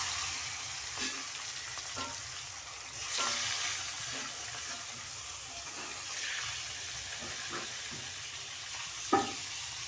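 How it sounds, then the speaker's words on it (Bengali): Pieces of fresh rohu-type fish fry in hot oil in a wok, producing a soft, steady sizzle with a few scattered spatters and a sharper clink near the end, faint and without voices. "কড়াইতে তেলটা দিয়ে দিচ্ছি তেল আমার গরম হয়ে গেছে এবারে মাছগুলোকে দিয়ে ভেজে নিচ্ছি"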